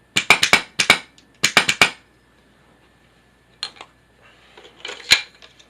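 Planet Eclipse MG100 magfed paintball marker aired up and dry-fired with the bolt blocked, giving sharp metallic clicks in two quick bursts of four, then scattered lighter clacks, close and loud in an indoor basement.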